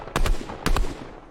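A burst rifle in Fortnite fires two quick two-round bursts about half a second apart. The shots are loud, sharp and close, with a short tail after each burst.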